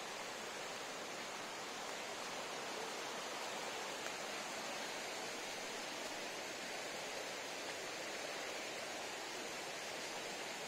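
Steady roar of a waterfall on a trail at Cachoeira do Barata, with constant broadband rushing water close by and no voices.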